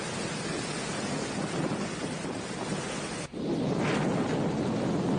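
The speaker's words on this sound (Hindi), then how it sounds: "तेज रफ्तार में बहती हवा और हवा का शोर साफ तौर पर आप देख पा रहे हैं," Strong wind from Cyclone Nisarga roaring along the coast near Mumbai and Uran, a dense continuous rushing noise that briefly dips then surges again, loud and close with no talk.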